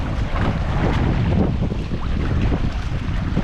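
A small boat (bangka) out on open water, its motion and the surrounding waves heavily buffeted by loud, steady wind rumbling against the microphone throughout.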